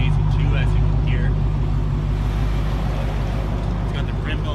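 A 2016 Dodge Challenger SRT Hellcat's 707-horsepower supercharged Hemi V8 rumbles steadily at idle, deep and loud close by, with faint higher supercharger chirps over the low drone.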